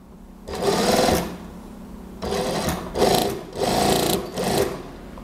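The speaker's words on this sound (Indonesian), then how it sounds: "tinggal dijahit terus ke sisi atas seperti biasa" A sewing machine stitches a zipper onto a gamis dress in short bursts of rapid mechanical whirring, about four runs separated by brief pauses, heard close up.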